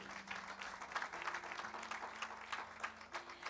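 A church congregation claps in sustained applause, steady and fairly faint, with a low tone from a sound system humming underneath.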